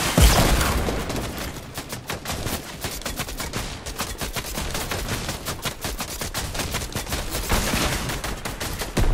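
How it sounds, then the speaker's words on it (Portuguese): Rapid, sustained automatic gunfire in a Fortnite match, loud and near, with dense overlapping shots rattling continuously for several seconds. "Tá atirando em tudo, rapaz."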